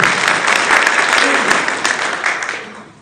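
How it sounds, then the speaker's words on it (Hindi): A crowd at a community gathering in Haryana, India, applauds steadily and energetically in welcome, the clapping gradually tapering off toward the end. "तालियों के साथ स्वागत करें।"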